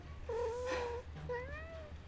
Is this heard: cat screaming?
yes